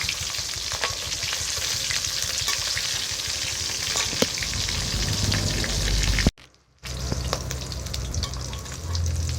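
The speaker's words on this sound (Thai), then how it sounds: "อันนี้เอาปลาทูมาทอดนะครับ" Mackerel fries in hot oil with a dense, continuous sizzle and crackle and occasional stirring, broken by one brief drop in sound before the sizzling resumes.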